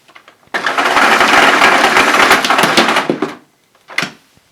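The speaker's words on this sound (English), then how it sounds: "let's see how effective the automatic cord reel is." A Dyson Cinetic Big Ball Animal vacuum cleaner's automatic cord reel retracting, a loud whirring, rattling rush lasting about three seconds that ends in a clack, then a short final knock.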